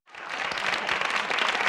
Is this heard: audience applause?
yes